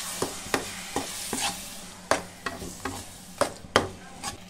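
Blended tomatoes stirred into cooked spices in a frying pan: a steady sizzle with repeated sharp scraping strokes of the spoon against the pan at an uneven rhythm, close and clear, with no talking.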